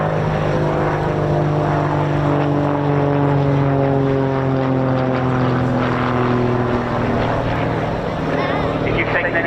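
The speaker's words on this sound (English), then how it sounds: "We'll now bring the Tutor around with the passing wave at 100 feet" A Grob Tutor propeller aircraft passes low at about 100 feet during an air show, its engine a loud, steady drone with a shifting pitch that holds throughout and masks other sounds.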